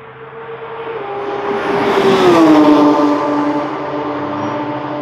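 Porsche GT3 RS with a naturally aspirated 4-litre flat-six, no turbo, running on the Dijon-Prenois circuit: a loud, smooth engine note that climbs in pitch and swells to a peak midway, then settles into a steady high drone.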